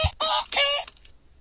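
Game chicken in Mini World clucking in a few short bursts, the first a low thump followed by two bright, brassy cackles close up, then quiet.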